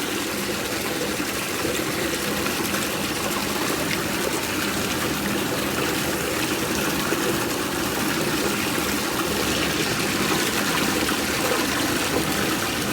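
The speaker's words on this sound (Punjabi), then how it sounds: "ਹੁਣ ਇਹਨੂੰ ਡੇਡਾ ਕਰਕੇ ਪਾਣੀ ਕੱਢ ਦੇ" Continuous rushing, splashing water pouring out steadily and fairly loud, with no break for the whole stretch.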